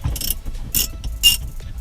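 Seat bolts on a BMW E46 being broken loose, heard as three bursts of ratcheting wrench clicks with short pauses between, close and fairly loud with no talking.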